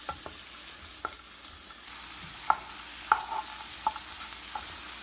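Peas and prosciutto are stirred in a pan, a spoon scraping and knocking against the pan in several separate strokes over a soft, quiet sizzle.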